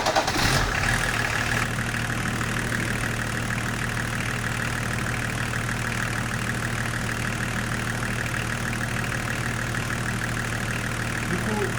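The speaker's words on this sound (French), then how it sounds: "je vais démarrer la voiture" A BMW E36 325tds diesel car engine cranks and catches, then settles into a steady, loud idle with a constant low hum that carries on unchanged to the end.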